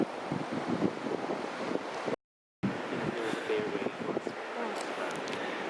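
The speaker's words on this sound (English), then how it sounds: "Hopefully you can hear the audio because it's a bit windy" Gusty wind buffets an outdoor microphone at a scenic viewpoint near Smithers, British Columbia, making a continuous rough, low rumble that briefly cuts to silence before the roar resumes.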